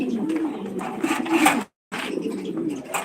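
Pigeons coo steadily at a pigeon farm in Senbag, Noakhali, where many high-quality fancy breeds are kept; the layered cooing continues close by, briefly cuts out near the middle, then resumes, with no talk.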